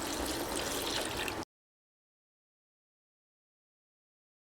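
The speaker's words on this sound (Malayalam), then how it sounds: "ഒരു 3 കപ്പ് വെള്ളം ഒഴിച്ച് കൊടുക്കുക" Water pours into a mixer jar holding mango and mint leaves, a short bright splashing stream that stops abruptly after about a second and a half, followed by silence.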